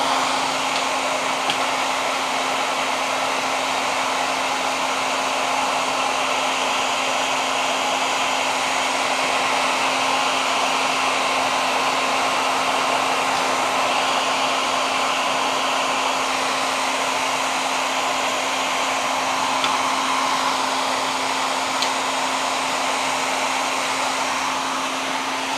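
Heat gun blowing hot air onto decal glue on a Yamaha motorcycle fuel tank, a loud, constant whirring hiss with a steady tonal hum that runs unbroken throughout, no talking.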